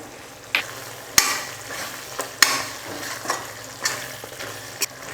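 A spoon stirs a thick simmering chicken gravy in a pan, with soft bubbling and several sharp scraping clicks against the pot, close by.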